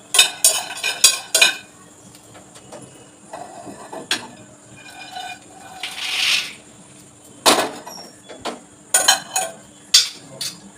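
Makhana and roasted chickpeas being dry-roasted in a pan make intermittent clattering scrapes and rattling bursts as they are stirred, sharp close knocks separated by quieter pauses.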